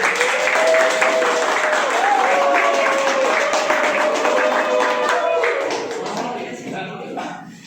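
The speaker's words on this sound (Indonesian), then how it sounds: "Beri aplaus buat teman-teman." An audience at a teacher workshop bursts into applause, a dense and loud round of clapping from a nearby group with voices mixed in that slowly fades toward the end.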